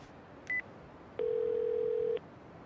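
A telephone number is dialed in a video game: one short beep, a pause, then a longer steady electronic tone, clean and alone.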